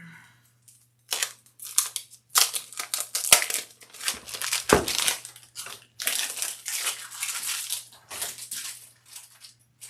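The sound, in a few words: cutting out fabric pieces for a sling bag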